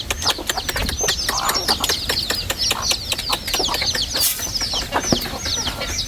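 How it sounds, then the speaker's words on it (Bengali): Native desi chickens on a small farm in Shibpur, Narsingdi, clucking and chirping constantly, with sharp high calls overlapping among scattered clicks and rustles at steady moderate loudness. "এটা দেশি মুরগি না আঙ্কেল? সব দেশি মুরগি।"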